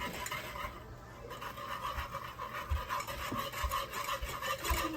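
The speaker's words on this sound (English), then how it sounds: "You can whisk it while you're doing it just to keep it from burning" Raw chocolate syrup being whisked in a pot gives a close, continuous scraping and rasping stir with rhythmic strokes and a few soft knocks, and no voices.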